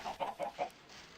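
A few short clucks from chickens on a video game egg farm, quick bursts in a brief sequence, fairly faint with no talking.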